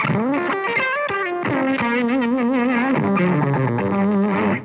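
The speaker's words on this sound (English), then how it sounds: "The octafuzz sound for me is where it's at." Distorted octafuzz fuzz pedal guitar tone with an upper-octave edge, played as sustained, bending melodic notes in a steady loud run through an already driven amp, with no talking.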